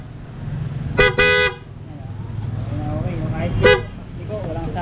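A PIAA horn fitted to a Honda Click V2/V3 scooter sounds in a short double honk, then a single blast a few seconds later, loud and close over a steady low hum.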